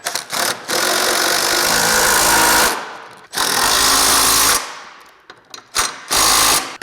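Bursts of a pneumatic impact wrench tightening lift-kit bolts on a 1990-98 Mitsubishi Minicab truck, three loud sustained runs separated by short pauses, with a few brief stuttering hits near the end.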